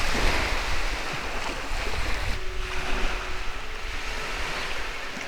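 Ocean surf washes steadily against the shore at Cape Takezaki, the northern tip of Shikoku, a continuous close roar of breaking waves mixed with wind buffeting the microphone, with no speech.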